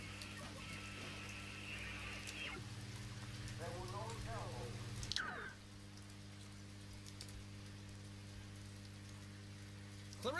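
Steady rain hiss from a rainstorm in the video game Oxenfree runs throughout at moderate level, with low hum beneath, brief voice sounds and a knock near the middle.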